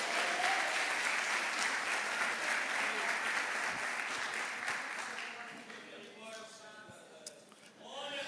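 An audience in a church applauds loudly and steadily, then the clapping thins and fades out near the end while a voice speaks underneath.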